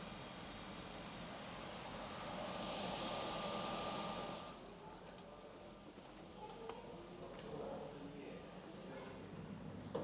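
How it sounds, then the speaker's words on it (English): A de Havilland Canada DHC-6 Twin Otter aircraft at Land's End Airport, a steady engine drone that swells for a few seconds and then settles back to a lower hum. "The de Havilland Canada DHC-6 Twin Otter."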